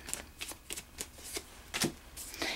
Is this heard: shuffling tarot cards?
yes